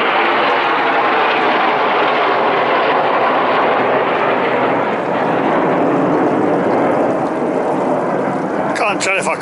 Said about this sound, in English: by coincidence the red arrows are doing a flyby